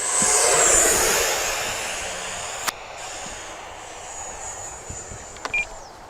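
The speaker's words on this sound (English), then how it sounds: "See if we can get her touch and go on the runway." An FMS Futura RC model jet passes over a runway, its turbine-like whine loud at first, then fading into the distance, with a few sharp clicks and a faint high tone near the end.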